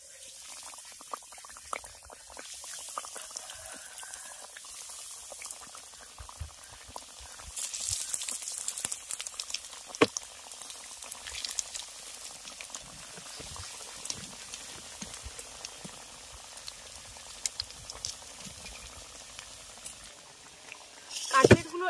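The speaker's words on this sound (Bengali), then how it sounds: "এবার কাটলেট গুলোকে ভেজে নেব।" Flattened-rice (chira) cutlets fry in white oil in a kadai with a soft, bubbling sizzle, joined now and then by light clinks and stirring. Faint background sounds run underneath, and it grows briefly louder near the end.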